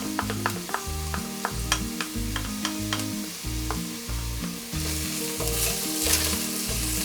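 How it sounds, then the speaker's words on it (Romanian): Garlic frying with onion in a pan as a base for ciorbă rădăuțeană, a loud, steady close sizzle with light stirring taps over it and no voices. "adăugăm usturoiul, îl călim împreună cu ceapa, tot așa 2-3 minute"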